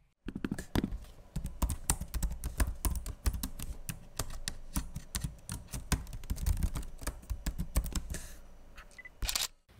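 Rapid, steady typing up close on an Acer Aspire Spin 14 laptop keyboard, a continuous patter of light key clicks with a few louder taps near the end.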